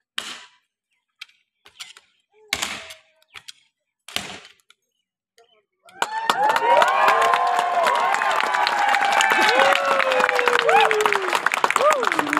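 A large crowd at the Wagah border parade between India and Pakistan breaks into loud, sustained clapping and cheering with whistles, after a quieter stretch of scattered claps and knocks.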